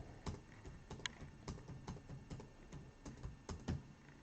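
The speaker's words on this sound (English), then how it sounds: "I'll just be simply typing in 1 through 10, hitting random once" Fingers typing numbers on a computer keyboard, a quick irregular run of soft key clicks with brief pauses between bursts, close and quiet, with no talking.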